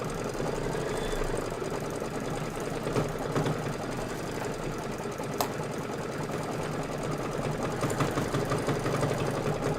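An embroidery machine stitches out a design in a steady, fast mechanical chatter, a continuous rhythmic whir with occasional sharper clicks, running alone without talk.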